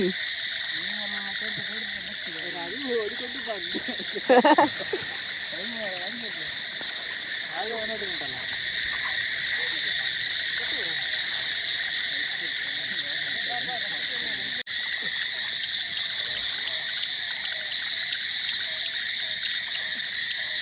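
A dense chorus of frogs croaks continuously at night in a flooded paddy field alongside a steady high insect drone, with a person talking intermittently over it.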